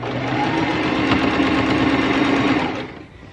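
A sewing machine stitches a label along the edge of a fabric scrunchie, giving a steady, close mechanical whir that runs for about three seconds before winding down and stopping.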